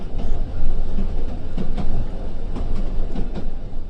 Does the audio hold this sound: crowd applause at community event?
no